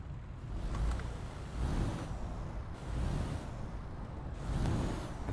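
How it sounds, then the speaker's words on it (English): Mitsubishi Fuso SuperGreat truck engine in Euro Truck Simulator 2, a low, rough rumble that swells and eases in four slow waves, steady and moderately loud with no talking. "The engine sound."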